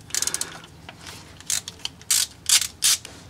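A ratchet wrench loosens transmission oil pan bolts on a Chevy Monte Carlo, giving quick close clicking bursts followed by several separate louder ratcheting runs, with no talking.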